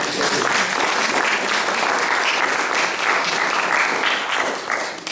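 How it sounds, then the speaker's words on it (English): Audience applause for Jackie Morrow at a scrapbook program, a loud, continuous burst of many hands clapping at once, holding steady and tapering slightly at the very end. "I want to give Jackie a round of applause"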